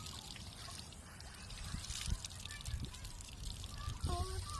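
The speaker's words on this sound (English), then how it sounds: "She's gonna press the faucet." Water trickles and splashes from a push-button beach faucet in South Australia, a steady faint stream with wind and distant surf behind it, and a few soft voices nearby.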